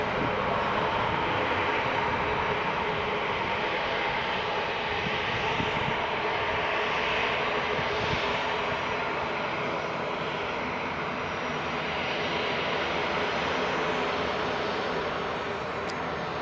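A Jet2 airliner taxiing at Leeds Bradford Airport gives a steady, broadband engine roar and whine that holds at an even level throughout, heard at some distance with no talk.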